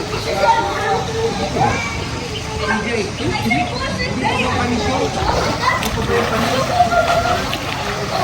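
Children shout and splash in a resort swimming pool, water sloshing and voices overlapping continuously and fairly close, with a person talking over the busy poolside noise.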